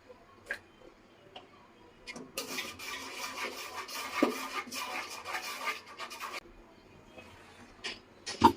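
Potato dal spices with turmeric and salt stirred and fried in a pan, heard as steady scraping and sizzling with a few sharp taps of the spoon against the pot, close and moderately loud, no talking.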